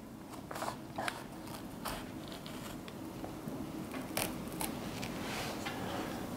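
Quiet snipping cuts sound at scattered intervals over a low, steady background hum, a few sharper clicks standing out; no voices are heard.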